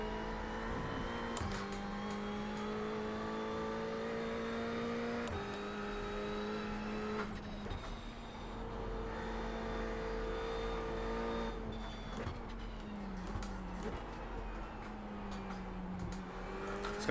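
A Ferrari race car engine drones steadily in an iRacing sprint at Oulton Park, a close, continuous high-pitched whine that rises and falls with gear changes and throttle lifts.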